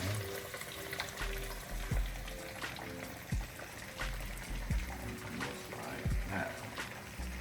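Southern-style fish pieces fry in hot grease in a pan with a continuous close sizzle and bubbling. A few soft knocks and clatters come from the pan, and faint low voices sit beneath it.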